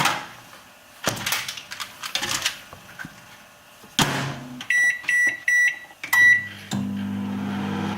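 A microwave oven heating a ready-made Asda pulled chicken and bacon pie: clattering and a door shutting, then a run of sharp beeps as the timer is set, and finally a steady low hum as the oven starts running.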